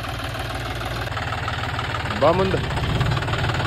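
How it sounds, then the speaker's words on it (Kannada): A tractor engine idles on farmland, a steady low rumble running under the whole stretch while someone speaks briefly near the middle. "ಟ್ರ್ಯಾಕ್ಟರ್ ಬಂದೈತಿ ಈಗ"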